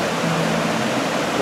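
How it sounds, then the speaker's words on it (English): Ganjnameh waterfall near Hamadan, a steady broadband rush of falling water that stays even and continuous throughout, with no voices. "The magical waterfall of Ganjnameh."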